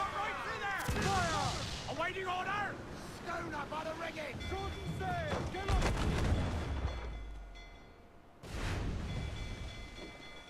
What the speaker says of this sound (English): Outmaneuvering other enemy ships, firing cannons at the right moment is just a whole lot of fun.